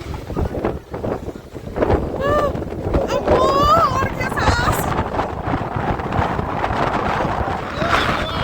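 Strong wind gusts roaring steadily through trees in stormy weather in Kurseong, loud and continuous across the whole stretch, with a person talking over it.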